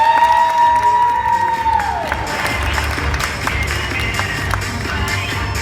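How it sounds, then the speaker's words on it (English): Audience applause for a guest speaker at a business talk: a dense wash of clapping with some cheering, steady and fairly loud throughout, a tonal sweep fading early on. "Please give a round of applause for Travis Parker,"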